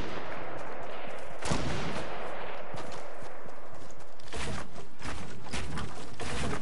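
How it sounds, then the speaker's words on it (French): Rapid gunfire crackles in a French-language video game firefight, several bursts of shots cutting through a steady broadband wash, with one louder cluster early and a denser flurry near the end. "Et ça tire aussi en sud-est, net."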